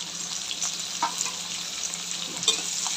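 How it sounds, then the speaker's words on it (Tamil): Onions sizzle in a pan for a mutton and potato kulambu, a steady close frying hiss broken by stirring scrapes and a few small pops, with no voices. "வெங்காயம் நல்லா வதங்கட்டும்."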